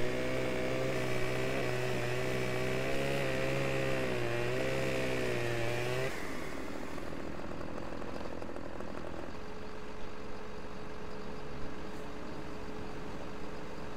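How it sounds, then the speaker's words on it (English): A chainsaw cuts wood in the Farming Simulator 15 video game, its engine droning loud and steady at first, then shifting to a rougher, lower grinding tone as the blade bites in, with mechanical hum continuing throughout. "Chainsaw again."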